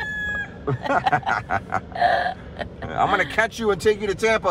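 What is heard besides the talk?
chickens crowing and clucking in Key West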